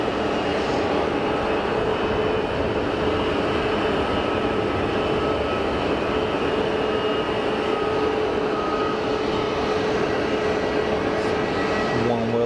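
An Airbus A350-1000 airliner taxiing at Geneva Airport gives a steady, broad jet engine roar with a constant whine, continuous and fairly close for the whole stretch.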